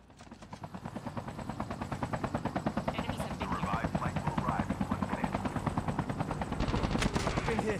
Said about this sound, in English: They shoot the chopper now.